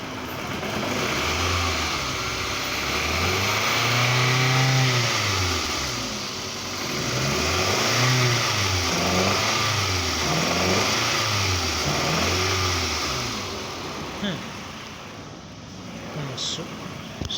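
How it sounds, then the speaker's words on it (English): A 2009 Toyota Camry engine with a misfire is revved by throttle in a series of rising and falling surges over a steady idle, close and loud, while a person speaks. "Give a little bit gas."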